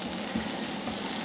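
Minced garlic and diced ginger fry in hot oil with a steady, close, dense sizzle that holds at an even loudness. No one speaks over it.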